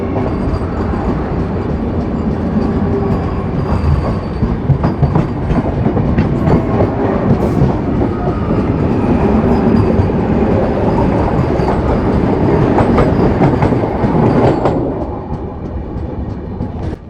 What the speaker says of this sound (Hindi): अयोध्या कैंट से आनंद विहार टर्मिनस जाने वाली 16 कोच की हमारी वंदे भारत एक्सप्रेस बाराबंकी आउटर से निकल रही है।